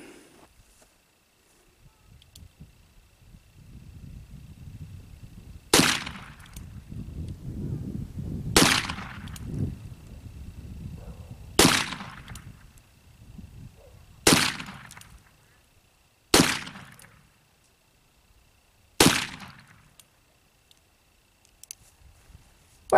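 Six sharp gunshots from an 1858 Navy .36 caliber black powder revolver fired offhand at a range, spaced a few seconds apart and ringing out loud and close, with faint rustling and handling noise between the first shots.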